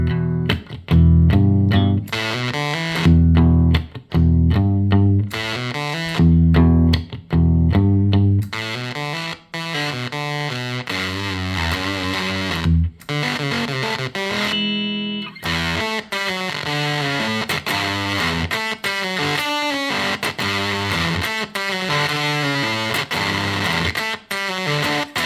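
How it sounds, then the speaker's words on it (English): An electric guitar plays through a Vespa gated fuzz pedal, giving loud, frenetic distorted notes that start and stop in abrupt choppy bursts, then settle into a sustained, buzzy fuzz run with no talking. "So you can kind of just intersperse these really frenetic gated fuzz"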